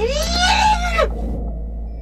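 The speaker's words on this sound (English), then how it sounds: "I started with a pretty heavily manipulated sample of one of my coworkers screaming down in our recording room" A coworker's scream, heavily manipulated for Dead Space 3 creature sound design, wails as a loud, warped, pitch-bending shriek for about a second, then cuts off abruptly into a low rumbling tail.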